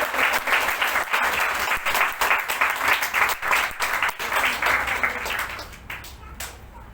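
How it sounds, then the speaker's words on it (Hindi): A church crusade congregation applauds loudly and steadily, dense clapping that fades off toward the end. "Can we give a big clap offering to Lord Jesus Christ?"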